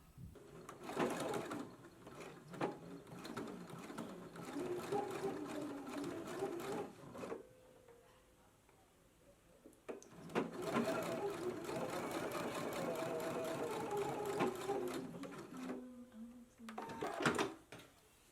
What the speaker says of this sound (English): we're going to be stitching from corner to corner at a diagonal stitch